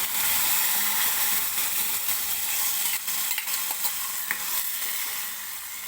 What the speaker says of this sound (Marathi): आता मी टाकते हळद थोडीशी, आणि ही शिजवून घेतलेली डाळ आता मी टाकून घेणार आहे.